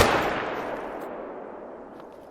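A single loud rifle shot in a hunting video game rings out, its boom decaying into a long echoing tail.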